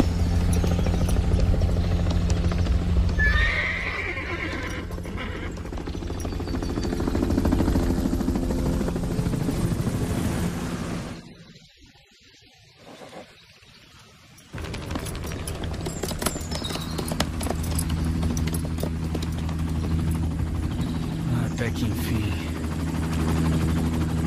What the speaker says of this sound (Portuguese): Sargento Gentry, para o helicóptero.